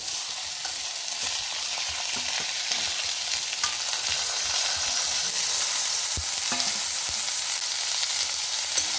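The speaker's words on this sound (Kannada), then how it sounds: "ಇದೇ ಬಾಣಲಿಗೆ ನೀರುಳ್ಳಿ ಹಾಕೊಂಬ" Chopped onions fry in a pan of oil with a teaspoon of cumin for onion chutney, a continuous hissing sizzle broken by occasional scraping stir strokes, with no one speaking.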